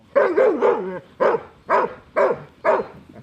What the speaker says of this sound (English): When we first met Miley, her bark sounded like this